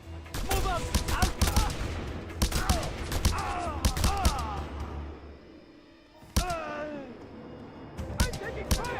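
Gunfire erupts during an ambush in Just Cause 2: rapid volleys of sharp, close shots crackle in bursts, with a brief lull before the firing resumes, while voices shout over the shooting.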